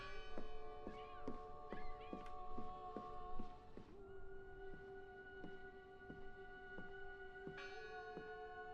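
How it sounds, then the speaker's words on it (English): A bell tolls repeatedly at an even pace in the video game Draugen, clear ringing strikes with long sustained tones layered over a quiet ambient background, no voices. "I heard the bell."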